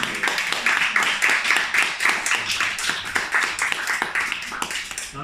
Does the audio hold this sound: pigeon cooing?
no